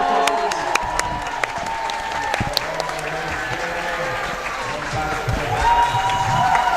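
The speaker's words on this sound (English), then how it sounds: "everybody here is cheering" Spectators at the World Jigsaw Puzzle Championship 2025 clap and cheer for the puzzlers, a steady wash of applause and crowd noise holding at even loudness throughout, with voices mixed into the din.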